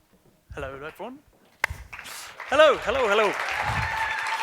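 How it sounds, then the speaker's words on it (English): An event audience starts applauding a guest halfway through, with a building wash of clapping that rises under a voice and sustains to the end. "A round of applause for him, please."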